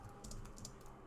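Quiet keyboard typing while entering Python code for a Pygame project, a short run of soft clicking keystrokes over a low background hum.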